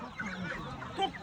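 Ducklings for sale at a poultry market call in a busy cluster of soft peeping and clucking chirps at moderate loudness, with murmured voices in the background.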